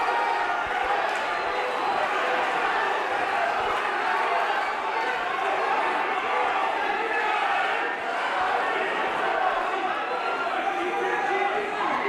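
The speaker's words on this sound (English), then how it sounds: "The crowd in here is going absolutely crazy." A packed crowd roars and cheers continuously at a boxing bout between Nkosi Ndebele and Chukwuma Okoli, a dense, loud, unbroken wall of noise with a commentator's voice running over it.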